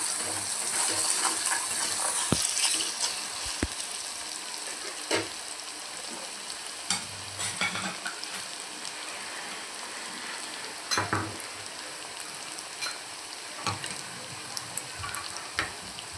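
Onion sautés in a pan for zunka, a soft steady sizzle under occasional utensil clicks and scrapes spread across the stretch, fairly faint and without clear speech.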